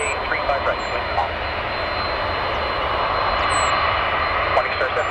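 Airplane engines at Calgary airport give a steady, broad roar that holds at a constant level throughout, with faint radio-like voices in the background.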